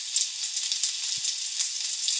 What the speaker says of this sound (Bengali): চিংড়ি মাছটাও ভেজে নিচ্ছি।